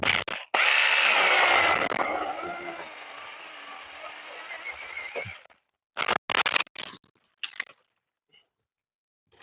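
Battery-powered cordless saw cutting branches at the top of a tree: a loud, whining cut lasts about five seconds and fades, followed by a few short bursts of the motor separated by silence.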